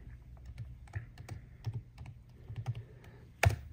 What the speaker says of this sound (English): So I'm going to type in my password again.